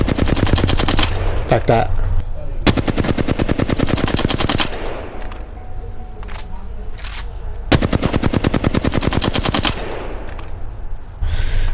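Apex Legends full-auto weapons fire in long, rapid, loud bursts of evenly spaced shots, separated by brief pauses with a few single cracks, and someone speaks briefly in between.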